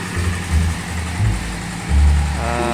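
Diesel irrigation pump engine running in a cornfield, a steady low droning rumble close by with slight surges in loudness and a faint whine near the end.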